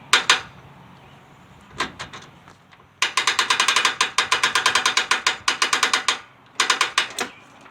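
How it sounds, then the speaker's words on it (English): A ratchet pawl on a Fulton trailer winch clicks: a few isolated clicks, then a long rapid run of sharp metallic ticks, a pause, and a short final burst, close and clear with no talking. "Now put your ratchet pawl down."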